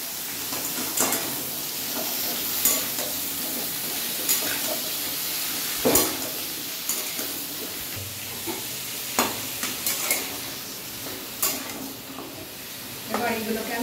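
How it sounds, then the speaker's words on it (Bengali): Mixed vegetables frying for khichdi give a continuous sizzle, broken by regular stirring scrapes and clinks, with a voice talking over it. "এগুলোকে আমি লাল করে ভেজে নেব।"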